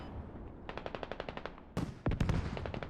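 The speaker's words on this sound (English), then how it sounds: "a mortar barrage coming in by the IMF called on objective" A war video game battle: a rapid, evenly spaced burst of gunfire, then heavier, louder blasts as a mortar barrage comes in, all close and with no talking.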